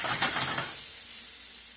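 Asparagus steams in a covered pan on the stove, giving a close, bright hiss that swells briefly with sputtering pulses and then settles into a softer, steady steam.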